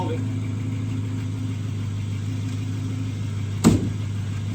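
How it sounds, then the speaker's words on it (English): A Dodge HEMI V8 idles close by with a steady, deep, even rumble, broken by a single short sharp knock near the end and low talking faintly underneath. "Wow, listen to that HEMI"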